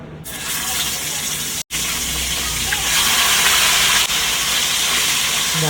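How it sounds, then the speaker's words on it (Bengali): Chicken pieces sizzling in hot oil in a pan while being stirred for homemade chicken biryani, a loud, close, steady frying hiss broken by a brief pause. "আমি তেলে দিচ্ছি, মাংসটা একটু তেলে আমি নাড়িয়ে নিচ্ছি"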